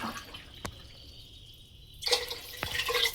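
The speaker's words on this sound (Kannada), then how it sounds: "ಹಾಗಾಗಿ ಇಲ್ಲಿ ನಾನು 3 ಗ್ಲಾಸಷ್ಟು ನೀರನ್ನ ಹಾಕೋತಾ ಇದ್ದೀನಿ" Water poured from a glass into a pot for kushka rice: a quiet, trickling splash with a few drips, then a fuller, steadier pour in the second half.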